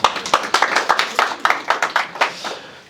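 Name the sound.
audience applause at a tech roundtable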